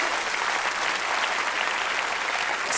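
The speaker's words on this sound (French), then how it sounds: "Bien sûr, on peut applaudir Barbara." Studio audience at a French televised cabaret magic show applauds steadily as a volunteer is invited onstage, a dense, even wash of clapping with no talk over it.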